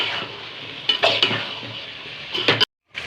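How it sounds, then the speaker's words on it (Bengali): Spices frying for a fish curry bhuna hiss steadily in hot oil while a spoon stirs and scrapes the pan in several close, loud strokes, with a brief silent gap near the end. "ভালো করে ভুনে নেব।"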